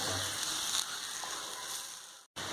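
Shallots sizzle steadily in a hot pan as they soften for a beef curry, a soft continuous crackle close by, broken by a brief silence near the end.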